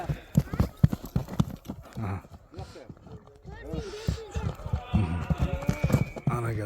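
Horse hooves clip-clop at a rural livestock sale where a horse is offered to buyers, steady irregular hoof beats heard close under ongoing talk from people nearby.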